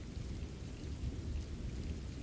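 Steady rainstorm with a dense hiss of falling rain and a deep, rolling thunder rumble underneath, continuous throughout with no voices.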